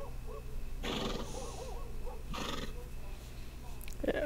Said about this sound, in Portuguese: Deixa eu ver os cavalos aqui.